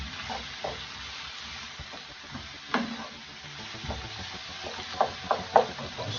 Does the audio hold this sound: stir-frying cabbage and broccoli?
yes